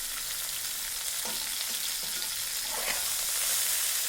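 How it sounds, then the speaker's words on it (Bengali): Mixed winter vegetables for misri bhaji fry in a pan with steady broadband sizzling, with a few scraping stirs cutting through around the middle and near the end; no one speaks. "এবার ভালো করে নাড়িয়ে চালিয়ে নিচ্ছি এটাকে ভালো করে ভেজে নিতে হবে"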